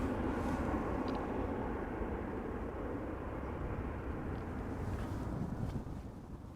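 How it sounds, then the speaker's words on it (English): A KLM Boeing 737-800 jet at Amsterdam Schiphol Airport gives a steady, broad engine roar that holds fairly constant and eases slightly toward the end, with no voices. "So KLM flight 1073, Boeing 737-800 outbound to Manchester is this."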